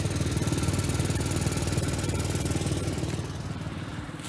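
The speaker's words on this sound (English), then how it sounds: "You can hear the exhaust leak." Steady, loud idle of a 2001 Infiniti QX4 4x4 SUV engine with a rapid puttering, ticking pulse from a minor exhaust leak, continuous and close throughout.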